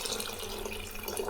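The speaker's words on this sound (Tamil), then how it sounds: "புளி தண்ணி ஊற்றிக்கலாம்" Tamarind water poured into a simmering pepper and garlic medicinal curry, a steady close splashing liquid stream running continuously without pause, fairly quiet and alone.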